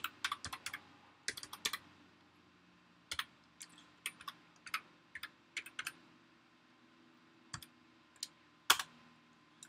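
Irregular bursts of keystrokes clatter on a Mac computer keyboard while entering login details, close and fairly quiet with short pauses between clusters of clicks.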